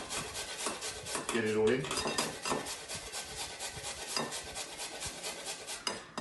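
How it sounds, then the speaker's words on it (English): A carrot is grated on the coarse end of a grater in a kitchen, giving quiet, rapid rhythmic rasping strokes close up, with brief speech partway through. "1 carrot, coarse end of a grater, just get it over"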